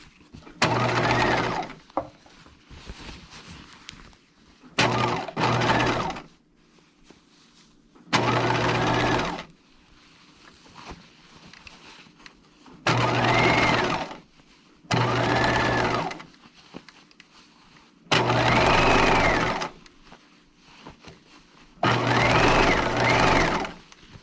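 A domestic sewing machine sews a dress seam in seven separate bursts of steady whirring, each lasting one to two seconds with short pauses between, close and fairly loud, with no talk.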